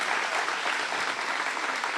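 A crowd at a county fair award ceremony gives a loud, dense round of applause, many hands clapping steadily and close for two seconds with no speech on top.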